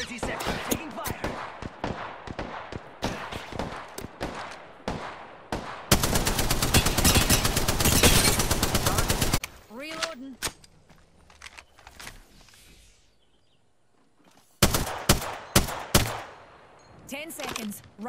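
Bursts of automatic weapon fire in Apex Legends, rapid loud volleys with a long sustained spray in the middle, then a quieter lull before more close shots.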